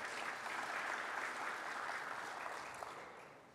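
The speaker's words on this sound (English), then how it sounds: "Please give them a round of applause." Seminar audience applauding at a voluntary services event, a dense, even wash of many hands clapping that holds steady and then gradually fades toward the end.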